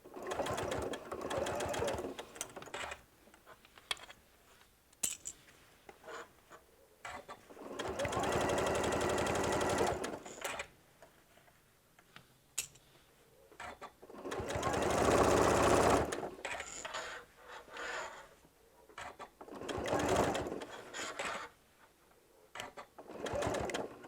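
A sewing machine stitches a knot bag, running in several loud, steady bursts of a few seconds each. Quiet pauses separate the runs, and a person speaks between them.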